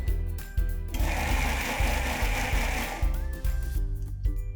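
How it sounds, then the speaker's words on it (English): A kitchen blender grinds soaked lentils with turmeric powder and salt into a coarse mixture for a South Indian dish. A loud, close motor whirs steadily with a rhythmic churning pulse throughout, with no one talking. "Now I'm going to cover it and then blend it to make a coarse mixture."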